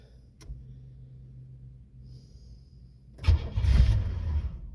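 A 1989 Chevy Celebrity with transmission problems and an oil leak cranks and catches after a quiet stretch, then settles into a rough, close idle rumble.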